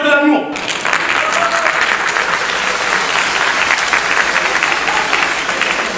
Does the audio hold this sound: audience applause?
yes